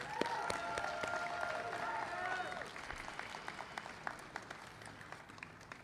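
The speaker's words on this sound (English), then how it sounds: "Give yourselves a round of applause, please." A crowd at a rally for striking Kellogg's workers applauds, with dense clapping and a few voices that gradually thin into scattered individual claps.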